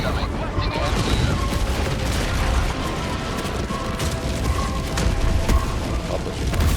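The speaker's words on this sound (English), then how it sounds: "Orbital barrage incoming. Stand clear." A Helldivers 2 orbital barrage sets off a dense run of heavy explosions, booming rumbles and crashes rolling one over another, loud and continuous, with mechanical clatter mixed in.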